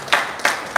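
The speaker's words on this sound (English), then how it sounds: "Let's clap for the fatherhood." A small live audience at a wellness talk on chicken slaughtering lessons claps in three short bursts of clapping, each rising quickly and fading, separated by brief quiet gaps.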